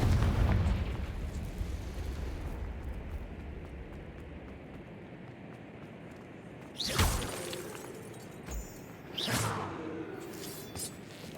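In the Hogwarts Legacy video game, a Confringo fire spell goes off with a sharp crackling burst, followed by a second blast a couple of seconds later over a quieter rumbling game ambience.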